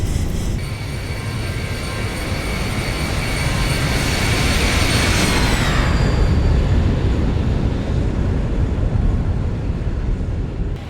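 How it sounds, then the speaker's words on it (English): Boeing 737 jet taking off and climbing in the X-Plane 12 flight simulator, a loud, steady engine roar with high whining tones that slide downward partway through, continuous and close, without talk. "Straight off the runway as we're empty, and we're airborne."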